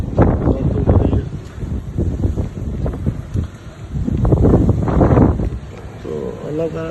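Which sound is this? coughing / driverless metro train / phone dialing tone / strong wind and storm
strong wind and storm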